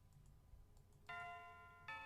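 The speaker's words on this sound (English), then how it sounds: "The final bell rings" A school bell chime in a visual novel game, two bright, clear electronic tones, the second following the first shortly after, each ringing out sustained over faint background hiss.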